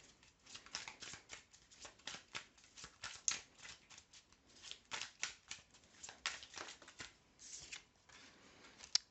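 Tarot cards shuffled and drawn by hand, a quiet, steady run of soft riffling flicks and slaps that keeps going without pause, with a few sharper snaps near the end.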